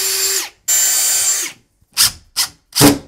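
Five sharp pneumatic bursts in quick succession, the first two longer hissing blasts, then three short punchy shots of a brad nailer firing close by while installing a hidden bookcase door.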